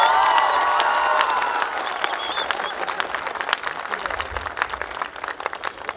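Audience clapping at a motivational marketing seminar in India: dense, loud applause from a large crowd with some cheering, starting strong and gradually thinning into scattered claps over six seconds.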